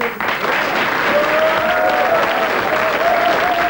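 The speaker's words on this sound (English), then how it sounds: "Give her a clap." A television studio audience breaks into steady, loud applause, a broad continuous roar of clapping with a brief faint tone running beneath it.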